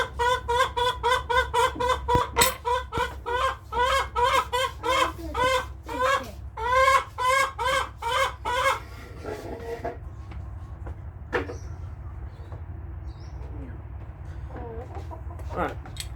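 Chickens clucking in a rapid, loud run of rhythmic clucks close by for several seconds, then trailing off into a few sparse, fainter calls over a low background rumble.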